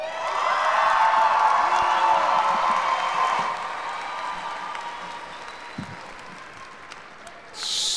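Graduation ceremony crowd for the class of 2018 at Johnson Senior High School bursts into sustained applause with cheers and whoops, loud and dense at first, then thinning and fading before a brief final swell.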